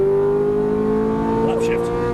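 A Ferrari F430 accelerates hard down a race track straight, giving a loud, sustained engine roar with steady rising harmonics and a brief pitch wobble, while a voice talks over it.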